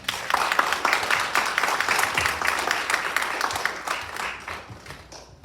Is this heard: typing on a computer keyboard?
no